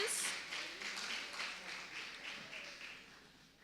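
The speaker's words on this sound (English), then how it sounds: "Can we give them a round of applause for all of their contributions?" Audience applause for a discussion panel at a community dialogue event, a broad wash of clapping that starts loud and gradually fades over a few seconds, with faint voices underneath.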